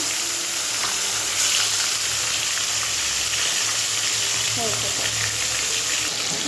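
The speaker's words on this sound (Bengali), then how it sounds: "এটা ভাজা করবো শুধু" A piece of salted sea fish fries in hot oil with a loud, dense, continuous sizzle and crackle that fills the whole stretch without any talk.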